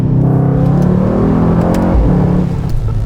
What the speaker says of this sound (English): back on the road in the tuned AMG GT4